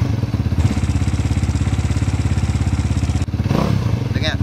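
A SYM VF3i motorcycle engine idles steadily up close with a loud, even throb, then a brief rev and a faint voice near the end.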